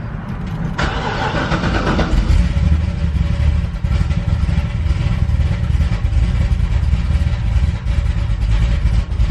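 Corvette Z06 engine cranking and catching, then settling into a loud, rough, steady idle close by, with no talk over it.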